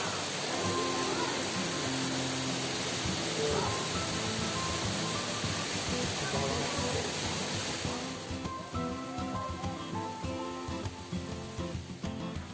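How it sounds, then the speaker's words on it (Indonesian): Kanto Lampo waterfall in Bali: a steady, broad roar of falling water that stays constant throughout. Its tone thins slightly in the last few seconds as faint sounds come through. "dia air terjunnya."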